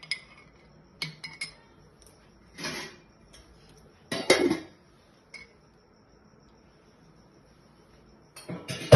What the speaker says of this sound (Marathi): आपण आता याच्यामध्ये थोडंसं घालूया गुळाचा पाक आणि याला आपण घेऊया हलवून